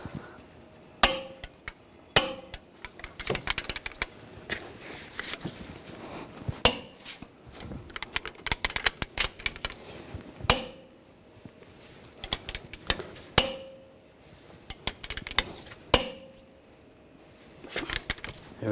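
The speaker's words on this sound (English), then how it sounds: "Now we're going to torque this bolt to 147 foot-pounds" Sharp metallic clicks and knocks sound at irregular intervals, separated by quiet gaps, while a CV axle bolt is tightened with a wrench on a Volkswagen Tiguan 2.0L I4.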